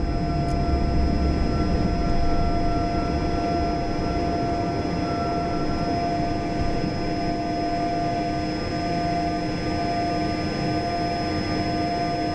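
A Learjet 45's jet engines roar during the takeoff climb from Montreal Mirabel, heard from the front of the aircraft as a loud, unbroken drone with a steady high whine throughout.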